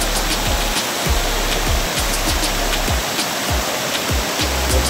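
A waterfall roars steadily over rocks, with dense, unbroken rushing water up close and loud throughout, and faint thumps beneath.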